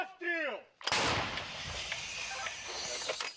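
A voice shouts briefly, then a single huge, sharp artillery howitzer blast booms out and rolls away in a long, echoing rumble, near Bakhmut.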